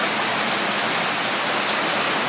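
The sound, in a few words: heavy rain pouring down, flooding everywhere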